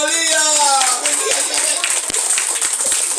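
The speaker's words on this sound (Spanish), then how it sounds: "un fuerte aplauso para Lía." Sustained clapping from a crowd at a child's sixth birthday party with children's voices and cheering over it, loud and continuous.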